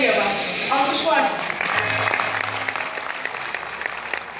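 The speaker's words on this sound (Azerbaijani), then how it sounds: "Alqışlar." Audience applause at a ceremony in Azerbaijan, dense clapping that starts under a voice and then carries on alone, fairly loud and close.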